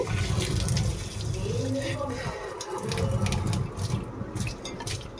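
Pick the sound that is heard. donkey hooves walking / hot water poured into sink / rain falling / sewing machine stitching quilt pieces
hot water poured into sink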